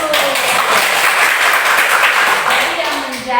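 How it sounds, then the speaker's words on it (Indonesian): Children in a primary classroom clap together on the teacher's cue, a loud, steady wash of many hands mixed with young voices throughout. "Iya, tepuk tangan dulu"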